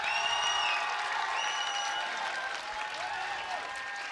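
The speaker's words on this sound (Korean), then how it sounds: "우리 관객 여러분들께서 리얼인지 아닌지 박수와 함성으로 한번 증명해 주시면 좋을 것 같습니다." Audience at an AFC 19 fight event applauding and cheering in a large hall, a steady wash of clapping and crowd noise with some voices over it, moderately loud and sustained.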